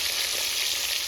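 Pieces of silver carp fish fry in hot oil with a loud, steady, close sizzle and crackle, uninterrupted and with no voices.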